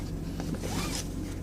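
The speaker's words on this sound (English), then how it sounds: "Seatbelt." A car seatbelt is pulled across and buckled inside a vehicle, giving a soft webbing slide and a small latch click over steady engine and cabin hum, with no talking.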